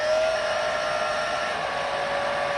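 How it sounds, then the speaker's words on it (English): A hair dryer blows with a steady, loud whirring hiss, unchanging throughout. "So I'm just about to plug the hairdryer in."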